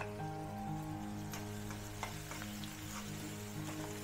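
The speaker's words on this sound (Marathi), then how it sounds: "मी कांदा घालणार आहे त्यात बारीक चिरलेला" Finely chopped onions frying in a pan, a steady soft sizzle with faint clicks of a spoon against the pan, quiet and close.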